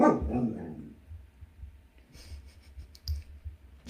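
A dog barks at the neighbours, a loud close bark at the start, then quieter intermittent yips and clicking sounds follow with gaps between them.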